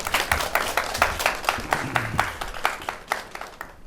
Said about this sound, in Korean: 이명익 대표에게 큰 박수로 보내주시면서 청해 듣겠습니다